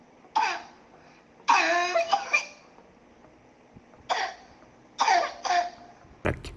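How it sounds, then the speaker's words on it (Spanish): Harsh, barking coughs typical of laryngeal infection come in short bursts of one to three, separated by brief pauses, close and loud, ending with a sharp knock. "la tos de perro típica de la infección de laringe"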